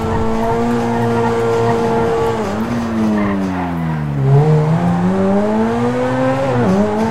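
In GTA 5, a car races at high speed with its loud engine whining steadily. The pitch dips and climbs back through several gear changes, and tyre squeal rises over the motor.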